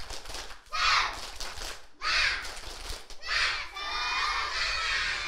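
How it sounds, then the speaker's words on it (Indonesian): Kindergarten children perform a spirit clap, with bursts of rhythmic clapping and loud shouted cheers coming in three waves, ending in sustained excited cheering from the group. "Mana tepuk semangatnya dulu yuk,"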